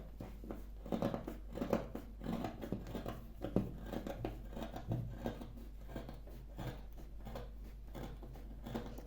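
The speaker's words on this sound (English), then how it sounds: "So I'm cutting out the 3 pieces together." Scissors cut out several stacked paper pieces at once, giving soft repeated snips and crunchy rustles in an irregular rhythm, fairly faint and close, over a low constant hum.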